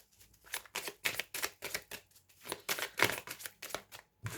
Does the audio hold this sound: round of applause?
no